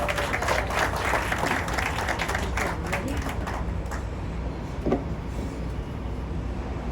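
A crowd at the Natiivo Miami groundbreaking ceremony claps for a speaker. The applause is broad and steady, thins toward the end, and has a faint outdoor background hum.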